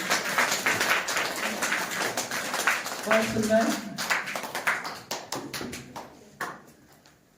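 A crowd applauds at a retirement party for a school official in Tharali, Chamoli, with brisk, dense clapping that gradually thins into scattered individual claps as voices talk over it.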